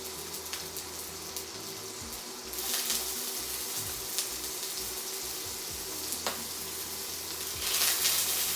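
Steady sizzling of food frying in a hot pan, a continuous crackling hiss with occasional louder pops and bursts of spatter.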